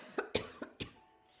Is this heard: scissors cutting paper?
no